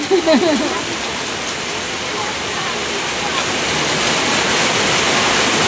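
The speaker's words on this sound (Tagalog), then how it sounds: "Talagang bumuhos po ang malakas na ulan." Heavy rain pours down steadily at an outdoor birthday party, a dense, loud wash of water that swells slightly toward the end, with no voices standing out above it.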